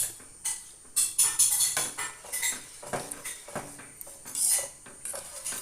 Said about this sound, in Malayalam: സ്മെല്ല് ചേർത്തു നന്നായി മിക്സ് ചെയ്യുന്നുണ്ട്.